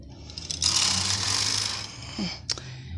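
Brother 8-button knitting machine carriage ratcheting across the needle bed during tuck stitch patterning, a close mechanical whirr and rattle with a sharp click near the end.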